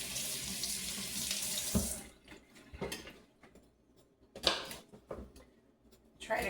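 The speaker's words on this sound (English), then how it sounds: "Rinse that off." Kitchen tap runs steadily over an organic celery stalk being rinsed, a loud wash of water for about two seconds that then stops, followed by faint handling clicks and knocks nearby.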